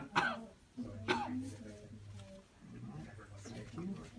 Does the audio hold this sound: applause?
no